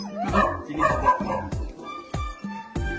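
Several dogs bark in short, sharp bursts, some yipping, with brief pauses between volleys; moderately close, no talking, at a rural home in Chikkamagaluru.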